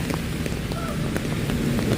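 Steady rain patters on surfaces outdoors, a dense, even hiss of drops that continues throughout without a break.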